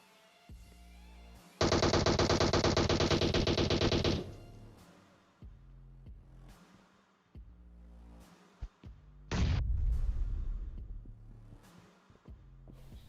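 Long bursts of rapid automatic gunfire in PUBG Mobile, loud and close, with single sharp shots in between and a heavy rumbling tail after the second burst.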